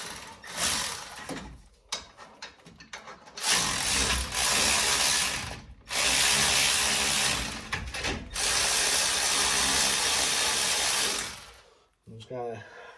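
Ratchet wrench turning on the front wheel bearing of a 1996 12-valve Cummins truck, bursts of rapid clicking and mechanical rattling, loud and close, broken by short pauses.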